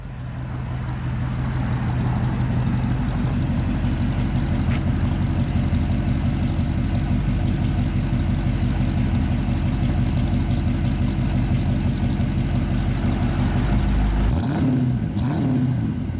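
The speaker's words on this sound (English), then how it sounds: "Sounds real good out the exhaust." A 1956 Chevrolet Bel Air engine idles steadily through dual exhaust with ceramic-coated ram horn manifolds, a deep, throaty burble, close and continuous, ending with a couple of short revs.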